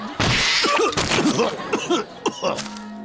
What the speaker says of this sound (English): this graveyard's a rather noisy place. Must be all the coughing.